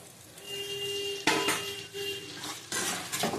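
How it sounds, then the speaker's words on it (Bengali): Potatoes tumble into a pan of spiced masala and get stirred, giving a burst of clattering spoon-on-pan scrapes and clinks with a faint sizzle, repeated in a few short bouts. "আমি আলুটা দিয়ে দেবো।"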